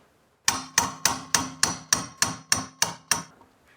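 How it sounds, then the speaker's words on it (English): A hammer taps a cold chisel against the corner of a metal firebox stove, nine sharp, evenly spaced ringing strikes, close and clear. "I'm just gonna use the cold chisel on the corner there and then just tap it."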